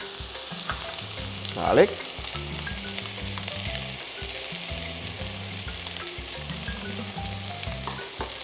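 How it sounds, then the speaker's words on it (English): Onions frying in sesame oil with a steady close sizzle and occasional stirring, one brief louder burst of crackle near the start. "So we're going to put a little oil, sesame oil. We're going to fry our onions,"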